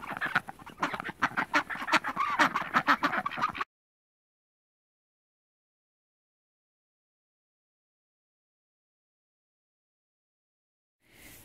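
A short burst of busy duck quacking and honking, loud and close, then abrupt silence before a brief sound returns at the very end.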